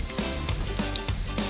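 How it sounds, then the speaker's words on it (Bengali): Potatoes frying lightly in oil with a little salt, a close steady sizzle punctuated by soft, regular stirring taps, no voices. "অল্প নুন দিয়ে একটু আলুটা হালকা করে ভেজে নেব"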